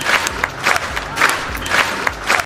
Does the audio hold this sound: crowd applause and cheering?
yes